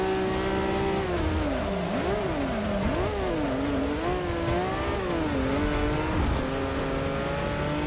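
A race car engine in Forza Motorsport 6, driven from the cockpit view, holds a steady loud drone that rises and falls as it revs up and shifts through gears, with faint tire noise underneath.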